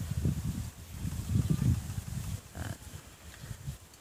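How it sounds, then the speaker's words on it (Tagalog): Meat-type goats, including a large breeding buck, on a goat farm make a close run of low, rough grunting and bleating calls that rise and fall over a few seconds against faint rustling. "yan na yung mga kambing natin"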